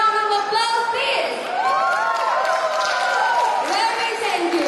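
An audience at an event in Malaysia claps and cheers in a busy crowd roar, with whoops and shouting voices mixed through a steady wash of applause.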